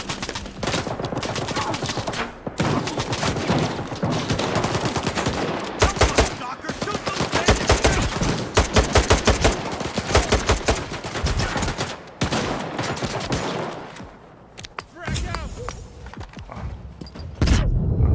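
Dense, rapid gunfire clatters almost continuously in Stalker 2 during a fight with bandits at a slag heap, with bursts of automatic fire, booming grenade blasts and brief lulls, loud and close.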